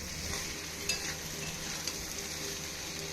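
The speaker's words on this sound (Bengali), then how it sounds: "এবার এটাকে আরও একবার দু মিনিটের জন্য একটুখানি ভেজে নেবো" Shrimp, chopped onion and diced potatoes fry in a pan with a steady, soft sizzle and an occasional faint stir or clink.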